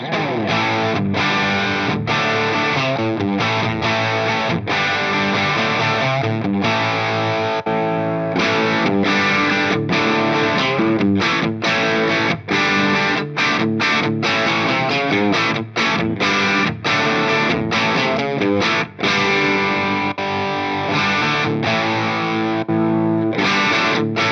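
A crunchy, distorted electric guitar through a Mesa Mark IV amp on its Rhythm 2 channel, graphic EQ off, plays rhythmic chugging chords with short breaks between phrases, loud and up close.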